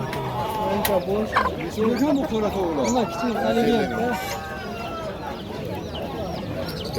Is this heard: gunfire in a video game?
no